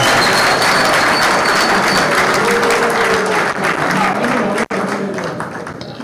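Guests at a civil wedding ceremony in Kimihurura break into loud, sustained applause with a thin high ululation running along it, continuing steadily before a brief cut and a slow fade.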